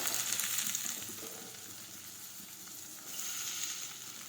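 Chopped onions and tomatoes fry in a pan for urad dal, giving a soft, steady sizzle that dips midway and swells again toward the end.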